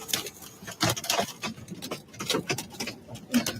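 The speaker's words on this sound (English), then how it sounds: "It's fucking hail." Hail falling right after a sudden rain, rattling down in dense, irregular patters and taps that stay close and fairly loud without pause, with no talking.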